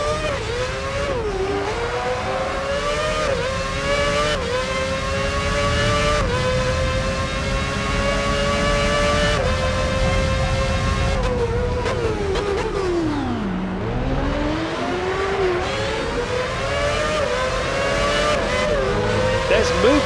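A Williams race car in the F1 2006 video game leaving the pits, engine whining and rising through gears with shifting pitch, loud and continuous, with a commentator's voice running over it.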